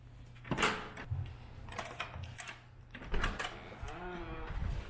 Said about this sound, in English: see what happens when the door opens